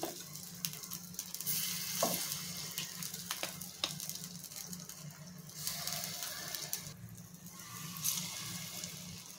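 Steady sizzle of appe batter frying in an oiled appe pan, a continuous crackling hiss with a few brief clicks and scrapes, close and fairly quiet.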